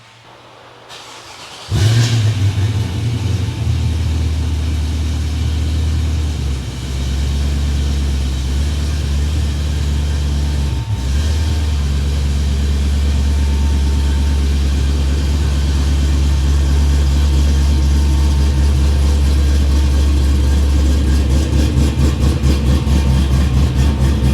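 A 1969 Pontiac GTO starts and settles into a loud, steady, deep idle to warm up, the rumble holding for over twenty seconds with a brief dip partway through and no talk over it.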